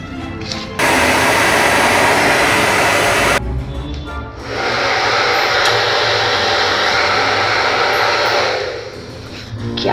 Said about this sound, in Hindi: क्या कैसे ड्रायर कर रही हो?